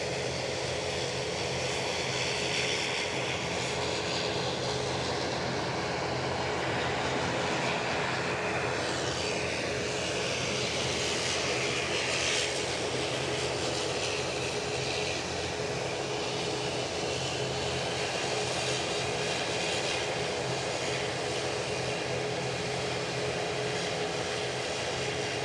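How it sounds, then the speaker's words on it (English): A WestJet airliner at Edinburgh Airport gives a loud, steady broadband engine roar that fills the whole stretch, with a slow rising sweep near the middle as it passes. "So there's the WestJet"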